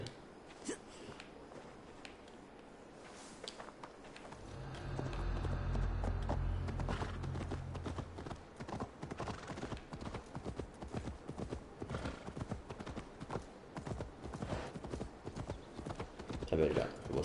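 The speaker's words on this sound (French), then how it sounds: "Ah ben là, on voit son cheval." Horse hooves clip-clop steadily in Assassin's Creed Valhalla, a soft rhythmic patter of hoofbeats with a low rumble partway through, under game voices and ambient sound.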